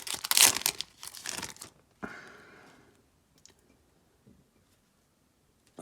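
A 2025 Topps Series 2 silver card pack is torn open up close, a loud burst of crinkling foil and tearing that fades into soft rustling and a few faint clicks.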